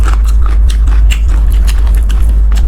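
Crunchy food being bitten and chewed right at the mouth, a rapid string of crisp crunches over a steady low rumble, with no talking.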